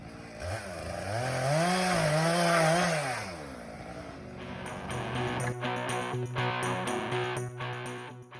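A chainsaw cuts a tree during wildfire operations, its engine rising and falling in long revs before settling into a steady, rough cutting drone, loud and close with no talk.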